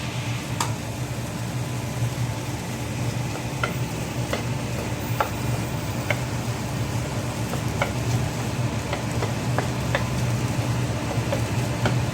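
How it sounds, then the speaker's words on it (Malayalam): Turmeric being stirred into a sandwich filling frying in a pan: a steady sizzle runs throughout, broken by irregular scraping clinks of a spoon against the pan, close up with no talking. "മിക്സ് ചെയ്യാം"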